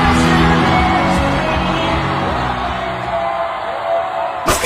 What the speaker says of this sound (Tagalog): Ganun na lang ang hiyawan ng mga fans.